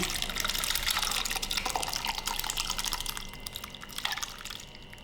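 Boiled rosella petal juice pours and trickles through a strainer, a continuous splashing liquid flow close by that gradually thins and softens toward the end.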